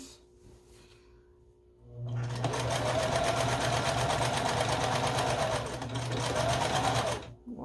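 A sewing machine stitching a scrappy string quilt starts after a quiet pause, then runs in a fast, steady mechanical whir for about five seconds before stopping abruptly.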